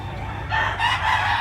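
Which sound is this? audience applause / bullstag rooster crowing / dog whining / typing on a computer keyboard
bullstag rooster crowing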